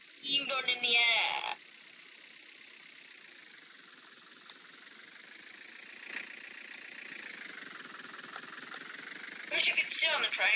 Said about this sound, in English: that's steam going in the air